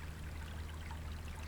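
A Pennsylvania creek flows in a steady, soft rush of water, faint and unbroken throughout, with no voices or other sounds.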